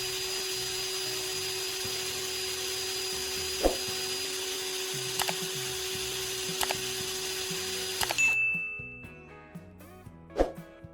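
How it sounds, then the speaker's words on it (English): A power drill spins a sanding disc to grind a fine point onto a carbon rod taken from an AA battery, giving a steady high whine for about eight seconds, broken by a few sharp ticks, before it cuts off and spins down. "I'm using a sanding disc to carefully create a fine, pointed tip on the carbon rod"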